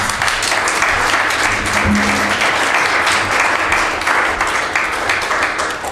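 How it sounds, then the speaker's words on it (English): Sustained audience applause welcoming panellists at a parliamentary panel event, dense, even clapping from a roomful of people, fairly loud and steady throughout with no talk over it. "Big round of applause, please."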